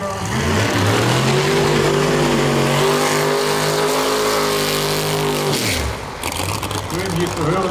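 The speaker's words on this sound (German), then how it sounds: "Schön hier zu hören, die unterschiedlichen Motorenkonzepte bei David." Loud drag racing engines roar and rev with a sustained rising-falling drone at NitrOlympX Hockenheim 2023, then drop off sharply before another engine revs up; a voice talks over it.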